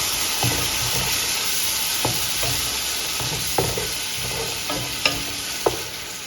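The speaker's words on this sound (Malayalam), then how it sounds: "എന്നിട്ടൊന്ന് നന്നായിട്ടൊന്ന് വഴറ്റി കൊടുക്കണം" Biryani masala with crushed green chili sizzles loudly in a pot, a constant close hiss of frying broken by occasional spoon taps and scrapes against the metal as it is stirred.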